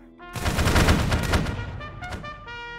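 A rifle volley fired on command during a reenactment drill skirmish: one loud, near blast of several rifles going off together, with a rumbling tail and a faint echo.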